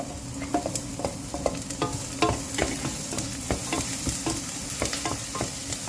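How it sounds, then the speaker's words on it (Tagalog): Garlic and red onion stir-fry in a pan for a beetroot soup, giving a steady close sizzle broken by repeated sharp scrapes and clicks of a utensil against the pan. "Just a stir fry."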